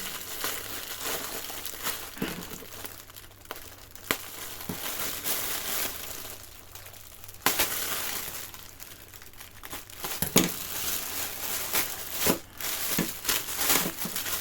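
Crinkling and crumpling of plastic wrapping around individually packed clothing sealed with tape, irregular bursts of rustling and tearing handled close by, with occasional sharper crackles.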